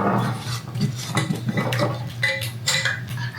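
Pumpkin puree being mashed in a bowl before cake mix goes in: continuous scraping, clinking utensil-on-dish strokes at close range, in an uneven rhythm with no talking.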